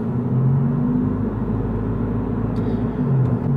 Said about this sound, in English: There's moderate road noise.